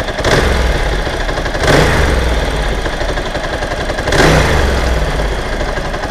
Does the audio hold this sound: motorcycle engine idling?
yes